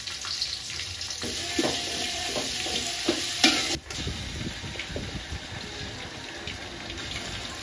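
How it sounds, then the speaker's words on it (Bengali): Sliced onions and garam masala frying in oil in a home kitchen pan, a continuous close sizzle with scraping stirs and a few sharp clanks of the utensil, no talk. "এটাতে তেল দিয়ে গরম মশলা, পেঁয়াজ এগুলো ভাজতে দিয়ে দিব"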